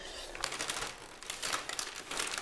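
Gift wrapping paper crinkles and rustles steadily as it is handled and folded around a present, close and continuous with no talking.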